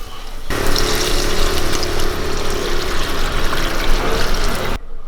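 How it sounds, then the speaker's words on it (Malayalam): Water poured into a pot of biryani masala with yogurt, a loud, close, steady gushing pour that runs for several seconds before stopping abruptly. "നമുക്കിതിലേക്ക് ആവശ്യത്തിനുള്ള വെള്ളം ഒഴിച്ചു കൊടുക്കാം"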